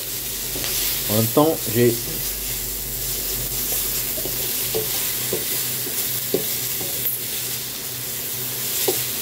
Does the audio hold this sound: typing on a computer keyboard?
no